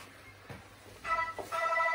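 A mobile phone ringtone starts about halfway through and plays as a loud, steady tonal ring over a quiet room.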